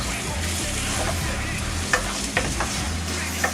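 Salad cream being mixed into leaves, soft rustling and squelching stirs with a few sharp clicks of a utensil against a bowl, close and moderately loud.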